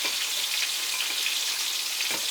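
Fish frying in fat on a gas stove gives an even, close hiss of sizzling with light crackles and pops running steadily without a break.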